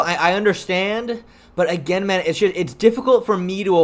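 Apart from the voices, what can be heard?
No everyday noises stand out.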